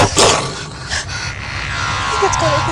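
A ghost dog in a gothic-style paranormal scene, heard as close, loud panting and breathy dog sounds with a brief yip, all alone without talk.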